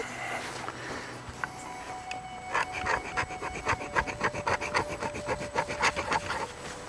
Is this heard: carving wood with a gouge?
yes